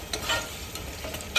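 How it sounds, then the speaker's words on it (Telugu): Masala paste frying and being stirred in a pan for fish pulusu, a close steady sizzle with soft scraping strokes of the spoon, no talking. "పేస్ట్ చేసి పెట్టుకున్న మసాలా పేస్ట్ని యాడ్ చేసుకొని ఫ్రై చేసుకోవాలి"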